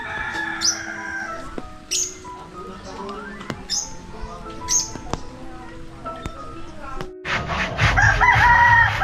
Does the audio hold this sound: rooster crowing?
yes